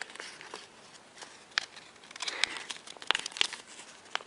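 Origami paper being folded, tucked and creased gives soft, close crinkles and crisp rustles, quiet and intermittent, with a few sharper crackles.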